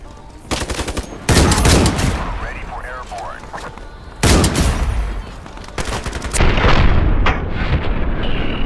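Sniper rifle gunfire in the shooter game Black Ops 4 (Ironsight), loud cracking shot bursts at intervals amid dense in-game battle noise, with talking over parts of it.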